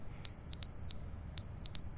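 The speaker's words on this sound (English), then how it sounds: "What's the beeping sound?" Electronic beeps inside a video game, sounding as two groups of sharp, loud, steady tones, each group made of a few quick pulses separated by a short gap, with no talking over them.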